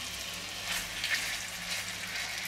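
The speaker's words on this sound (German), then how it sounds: "Und da kommt gleich das Hackfleisch rein und wird schön angebrutzelt." Minced meat frying in olive oil in a pan, giving a steady broadband sizzle with faint crackles throughout, close and moderately loud.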